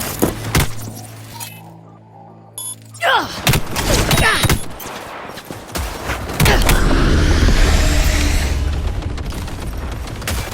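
Weapon reloading in Cyberpunk 2077: mechanical clicks and metallic creaks of a gun being reloaded, followed by bursts of gunfire and booming combat noise that build into a loud, continuous firefight.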